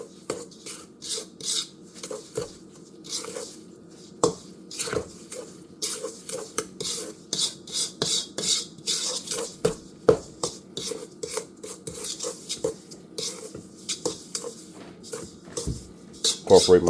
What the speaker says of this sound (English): I'm just gonna incorporate my sugar into my butter